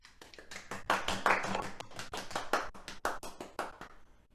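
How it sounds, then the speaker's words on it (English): Hand clapping from a small audience at a 2021 campaign closing event, a scattered run of sharp claps that swells and thins over a few seconds, moderately near, with no talk over it. "let's have just a little bit of a pause there for an applause."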